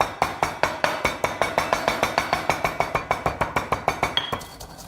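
A pestle bashing spices in a mortar: about two dozen sharp, evenly spaced strikes in quick rhythm, close and clinking, with no talking.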